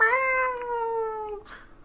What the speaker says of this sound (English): A cat has joined us for Funky Disco Hour.